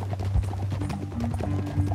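Horse hooves clip-clop in Red Dead Redemption 2, a steady rhythmic run of close, fairly loud hoof falls along a cliff-edge trail over a low ambient rumble.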